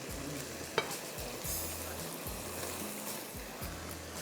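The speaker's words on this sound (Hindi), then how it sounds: "अब इसको मुझे अच्छी तरह भूनना है।" Chicken masala fries in a pan with soft sizzling, while a spoon scrapes and stirs in a repeating rhythm, fairly quiet and close, with no talk.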